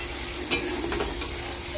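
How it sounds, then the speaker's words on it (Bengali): Spices frying in oil in a pan for a home-cooked Bengali curry, a steady soft sizzle with two brief stirring clicks. "তেলের মধ্যে সুন্দর করে ভাজা করলাম।"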